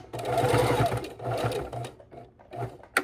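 A domestic sewing machine stitches fabric binding down to a corner in loud, steady bursts, pausing between runs, with a sharp click at the end.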